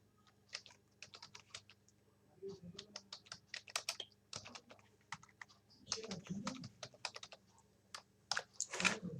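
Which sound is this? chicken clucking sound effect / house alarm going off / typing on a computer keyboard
typing on a computer keyboard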